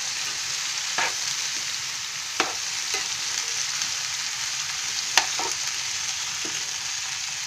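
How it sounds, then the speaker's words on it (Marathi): Flat beans (ghevda) frying and being stirred in a pan for a home-style vegetable dish: a steady hiss runs throughout, with a few sharp scraping clicks near one, two and a half and five seconds. "अशी थोडी हलवून घ्यायची."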